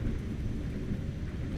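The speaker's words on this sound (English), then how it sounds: "That thunder sounds great" Low rolling thunder from a storm in the trucking game Euro Truck Simulator 2, a steady dense rumble with rain-like texture filling the whole stretch, no talk over it.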